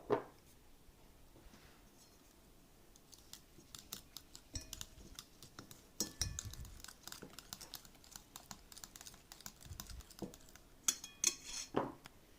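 Beaten eggs, vanilla sugar and almonds being stirred together in a bowl for a pear tart's almond cream, heard as scattered scraping and clinking of a utensil against the bowl, soft and close, with no talking.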